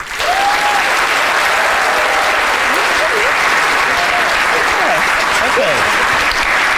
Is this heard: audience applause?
yes